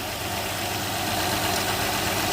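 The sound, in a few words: 2007 Honda Odyssey 3.5 engine starting and idling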